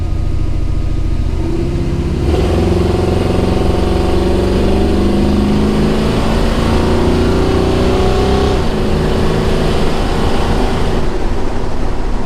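A pickup truck engine running on a freshly rebuilt Holley carburetor during a shakedown drive, loud and close, with a steady droning note that rises under acceleration, settles, then climbs again toward the end.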